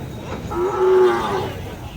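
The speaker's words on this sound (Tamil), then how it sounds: "பெரிய மாடுகள் எல்லாம் அங்கே இருக்குது பாருங்கள்." Bargur hill cattle at the Anthiyur livestock market give a single drawn-out, fairly loud moo lasting about a second, over a steady outdoor crowd murmur.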